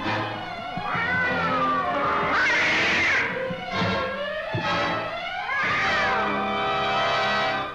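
A cat meows loudly in a scene from the film The Incredible Shrinking Man, giving long, wavering, drawn-out wails and cries that rise and fall several times in a row.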